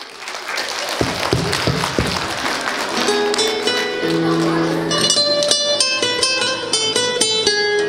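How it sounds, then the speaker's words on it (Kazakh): Applause from the audience at a second-grade class school concert: a burst of clapping and crowd noise that carries on as music begins to play underneath. "Дұғыл шапалақ!"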